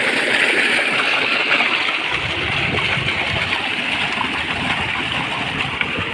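Water gushing from the 3-inch delivery pipe of a 2 HP solar water pump, a loud continuous rushing splash that steps up in force after a couple of seconds and then holds steady, close and without talk.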